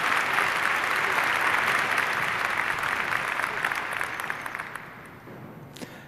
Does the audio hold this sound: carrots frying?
no